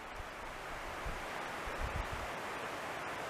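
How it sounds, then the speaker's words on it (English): A river runs in Nicholson Hollow, Shenandoah National Park, as a faint, steady broadband rush of flowing water, unbroken and distant, with no voices. "The river's behind me. Maybe you can hear it running."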